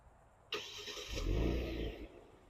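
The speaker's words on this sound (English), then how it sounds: "if you guys want to activate the remote start, you'll want to lock the car and press this button twice and hold." A 2023 Genesis G70 3.3T cranks over by remote start with a sudden loud catch, swells into a brief rev, then eases back toward a steady idle rumble. No voices.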